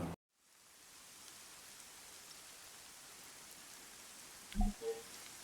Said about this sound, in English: It's a gloomy day, overcast, raining.